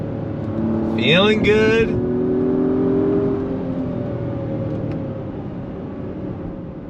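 A turbocharged Acura MDX Type S engine with a 10-speed gearbox swells in a brief, rising rev and then settles into a steady drone while the SUV is driven. Someone speaks briefly over it.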